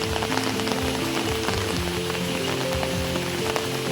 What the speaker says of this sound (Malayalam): വാവ്, മഴ.